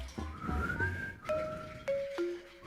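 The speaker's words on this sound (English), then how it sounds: "And what's that tune he's always whistling?" Someone whistles a short, clear tune of a few sliding and held notes, close by, with no other sounds around it.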